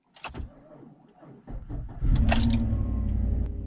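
A truck with a previously dead battery starting up: a few clicks and rattles, a brief cranking, then the engine catches at about two seconds and settles into a steady, loud low rumble close by.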